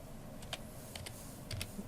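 A command is typed on a computer keyboard, with a few soft, faint keystroke clicks in small clusters spread over a quiet background.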